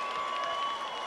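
A studio audience applauding on a samba music show: a short, dense patter of steady clapping with a faint crowd murmur, even and unbroken.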